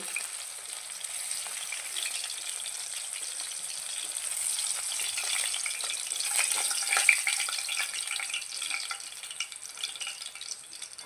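Bata fish sizzling in a pan of oil, a soft steady frying hiss at moderate distance that swells slightly midway, with faint crackles and no speech.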